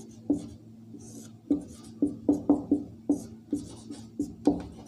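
Chalk or marker strokes on a board during a school maths lesson on matrices, a series of short scratchy taps and scrapes arriving irregularly, close and fairly clear, over quiet room hum with no talking.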